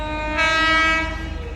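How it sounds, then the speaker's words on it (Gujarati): A train horn blares loudly and steadily over the rumble of an approaching train near Sangli railway station, then fades back into the rolling clatter of the cars. "સામેથી જો એક ટ્રેન ચાલી આવે છે"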